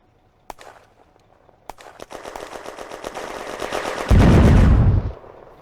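Automatic gunfire rattles in a WWII battle in the Firefight game, German positions in Remilly firing: scattered single shots first, then rapid bursts building into a loud, dense volley with a heavy boom before fading.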